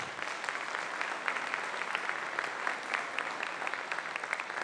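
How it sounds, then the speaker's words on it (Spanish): A conference audience applauds a panelist taking the stage, steady dense clapping from many hands sustained throughout at moderate distance. "Por favor, un aplauso para él, Aquiles."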